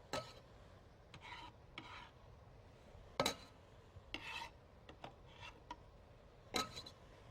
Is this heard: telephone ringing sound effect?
no